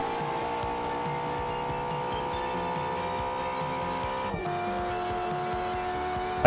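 A car in the Drift Stage racing game drifts and brakes hard, giving a steady, sustained engine and tyre tone that holds throughout with a brief shift near the end.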